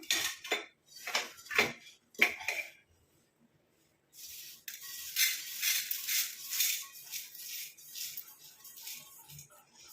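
Roasted ingredients tip out of an iron pan onto a plate, first a few sharp metallic scrapes and clanks, then a pause, then a long rattling, crackling pour of dry pieces sliding out.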